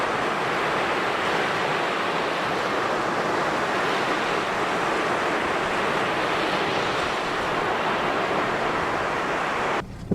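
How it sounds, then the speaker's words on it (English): Ocean waves wash onto the beach at Shediac in a continuous, loud, hissing surf with wind blowing across the microphone. There are no voices. "We've ended up in Shediac at the beach."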